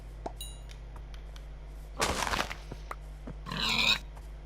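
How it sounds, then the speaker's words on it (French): Pig grunting in a Minecraft-style survival video game, a couple of short mid-loud bursts over a low steady hum, with faint game clicks scattered between them. "un poulet, un cochon"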